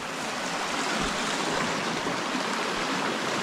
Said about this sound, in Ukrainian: Ще одна річка, друзі.